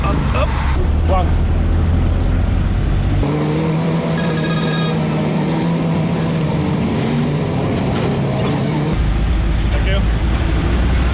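A jeepney truck grinds along through busy Manila traffic, its diesel engine rumbling and revving loudly up close amid road noise and hooting, with people talking briefly over it.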